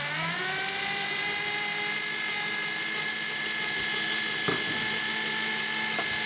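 A Bosch GSB 18-2 RE drill turns slowly with an HSS-Co bit into hardened metal, giving a steady, loud, high-pitched whine with a couple of brief clicks and no talk.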